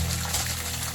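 Water pouring steadily into a basin, a continuous rushing splash with no pauses over the brief moment.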